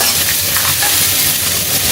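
Sliced onion dropped into hot oil with frying cumin for Bengali masoor dal, a loud close continuous sizzle with steady hissing and light stirring, no voices.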